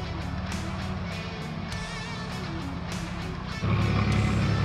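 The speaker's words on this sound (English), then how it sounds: "What a place to go four-wheel driving." A four-wheel-drive vehicle grinds along a remote North Island track with a constant loud engine drone and rattles inside the cab, the engine note stepping up and growing heavier near the end.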